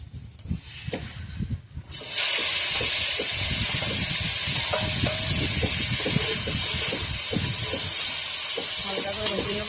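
Spices hit hot oil in a wok for a Bengali fish and banana-leaf recipe, bursting into a loud, steady sizzle after a quieter opening, with scattered crackles and clatter throughout.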